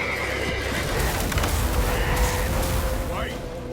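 A horse neighs and whinnies amid the busy sound of a battle in The Witcher 3 video game, with hoofbeats, clashes and a shouting voice mixed into the loud, dense background.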